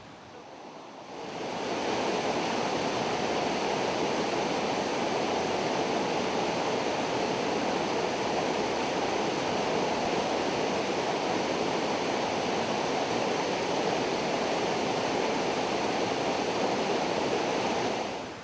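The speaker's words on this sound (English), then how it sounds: "I can't get enough of this creek." Britannia Creek rushing past in a steady, dense roar of flowing water that starts abruptly and holds at full strength with little variation, close and with no voices.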